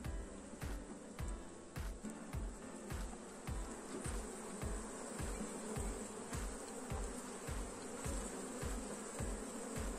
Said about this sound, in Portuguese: é um enxame que está praticamente completo